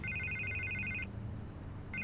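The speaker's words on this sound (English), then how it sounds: "I can't get the phone to stop ringing." Electronic telephone ringing in the Telltale Batman video game, a rapid trilling ring lasting about a second, a pause, then the ring starting again, loud and clear over a low ambient game background.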